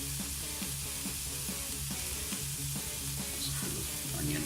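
Zucchini and onion cook in a cast iron skillet, giving a steady, moderately loud sizzle that runs unbroken throughout.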